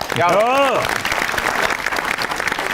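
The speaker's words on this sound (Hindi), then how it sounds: "दोनों के लिए तालियां" Loud, sustained applause from a television studio audience fills the whole moment, with a brief voice rising over the clapping at the start.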